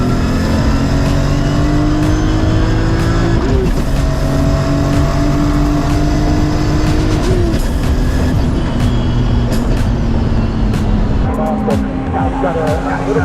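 Cars run hard around a race track during a Toyota Supra Turbo MKIV track day, a loud, continuous engine drone with shifting pitch as they pass and rev.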